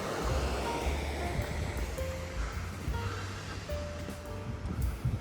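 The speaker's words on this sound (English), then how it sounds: "And there is where the water enters the mill." Continuous low rush of river water flowing into a mill on the River Wandle, moderately loud and steady, with faint wind and distant background sounds layered over it.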